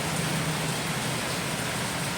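Steady rain falls on Bang Pla Road in Tha Sai, Samut Sakhon, a dense even hiss of drops filling the whole moment without voices.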